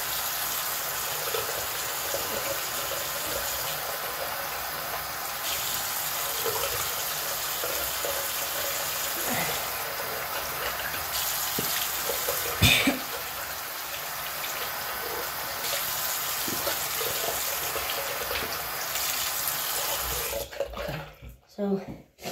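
Steady broadband rush of running water from a tap fills the whole stretch, with a brief clatter midway, then it cuts off near the end.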